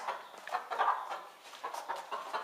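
A hen clucks at close range in a series of short, uneven bursts, with no talking.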